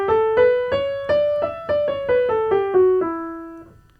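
A melody in the Dorian church mode from the Sakura Taisen theme song, played alone as about a dozen clear, evenly spaced plucked or struck notes that step up and then settle back down, with the last note ringing out.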